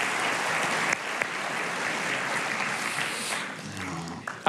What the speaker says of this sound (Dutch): Nou, applaus dan.